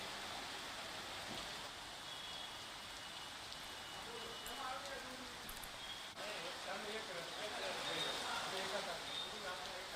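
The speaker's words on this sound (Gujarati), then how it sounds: "ગોત્રીના દ્રશ્યો જુઓ કે જ્યાં વરસાદી માહોલ જામ્યો છે" Unseasonal rain falls over city streets in Vadodara, a steady even patter with a faint background hum and occasional soft bumps, heard at a moderate distance.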